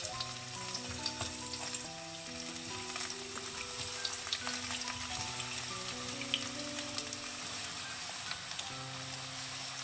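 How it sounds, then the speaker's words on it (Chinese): Sliced radish goes into a heated pan of cooking oil with a little sesame oil. It fries with a dense, even sizzle and faint crackles that run steadily throughout, with no voices. "油热之后将切好的萝卜放进去"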